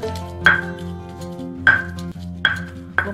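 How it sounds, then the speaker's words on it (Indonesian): Garlic pounded with a mortar and pestle, four sharp separate strikes over a few seconds with a steady low hum underneath, no talking. "ini ngulek bawang putihnya udah hampir selesai"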